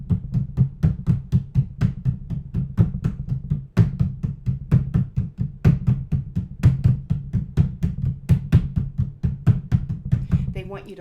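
Steady, repetitive drumming with regular low, booming beats and sharp attacks, continuous and fairly loud throughout, played alone with no talking.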